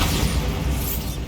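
A Bombarda spell explosion in Hogwarts Legacy lands as one loud, close, deep booming blast that fills the moment with low rumble and no voices.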